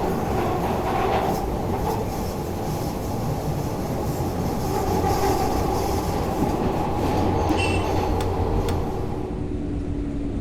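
A Glasgow Subway 1980 Stock train in the Thomson Interactive simulator game runs through the tunnel with a continuous loud rumble, wheel clatter and a faint high squeal, without speech.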